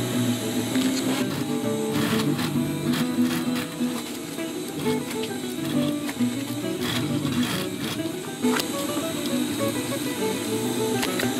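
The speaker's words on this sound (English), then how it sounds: "And start sewing." A sewing machine stitches the seams of a fabric chest pouch, a close, busy mechanical whir with rapid ticking needle strokes that runs almost without pause.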